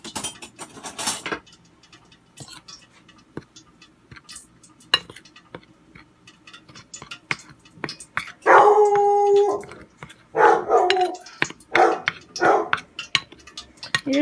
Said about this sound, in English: because Scooby is barking because there's somebody at the door, or near the door